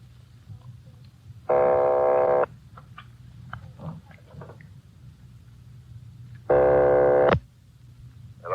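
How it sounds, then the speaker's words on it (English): A telephone ringing in an old radio police drama, two long steady rings about five seconds apart, each lasting roughly a second, over a quiet background hum. "They're ringing the number, Sergeant."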